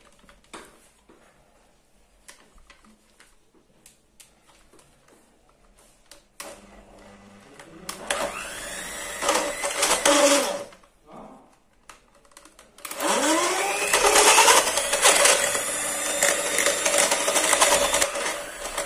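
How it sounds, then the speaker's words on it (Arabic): An electric hand mixer beats butter and sugar for holiday sweets, quiet at first, then whirring in a loud buzzing burst, pausing briefly, and starting again with a steady, rattling drone to the end. "غادي نخدم هاد المكونات كلهم بالطراب الكهربائي"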